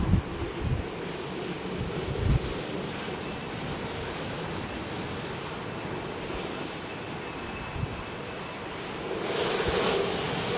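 An airliner roars at London Heathrow Airport during Storm Franklin, a steady distant engine rumble heavily mixed with gusting wind buffeting the microphone, with the noise swelling near the end.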